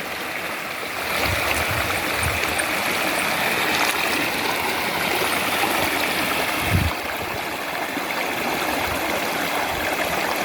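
Water rushes and burbles steadily in a flowing stream, a continuous close wash of sound with occasional low splashes.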